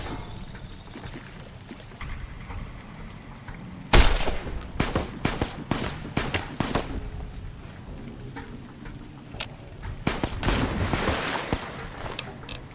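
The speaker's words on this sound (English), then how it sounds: "You guys aren't worth standing here having this gunfight with." A gunfight in Fallout New Vegas: quiet background at first, then a burst of loud gunshots followed by scattered, irregular shots and rapid volleys, fairly close and harsh.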